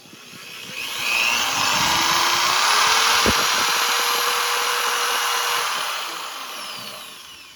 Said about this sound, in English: you just take a drill and you just drill it down